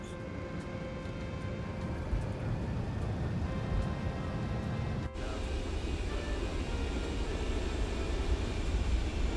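Airliner landing rollout with spoilers up and thrust reversers deployed, a loud steady broadband roar of engines and airflow filling the cabin, with a brief dip midway before the rumble resumes.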